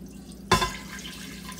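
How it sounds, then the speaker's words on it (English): A cup of water is poured into an Instant Pot pressure cooker fitted with a trivet: a single sudden splash and brief gurgle that fades within a moment, heard up close against a quiet room hum. "we're gonna put in the trivet and pour in a cup of water."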